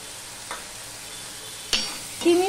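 Spice masala with a little sugar is stir-fried in a pan for a vegetarian papaya and chickpea dal. A steady sizzle runs throughout, broken by a few sharp scrapes of a spoon against the pan, with no talking.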